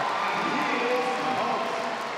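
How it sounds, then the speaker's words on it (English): Crowd cheering and shouting at a strongman log lift during the Arnold Strongman Classic, a steady wash of noise from a packed arena, with a commentator speaking over it. "Great reaction from the crowd again"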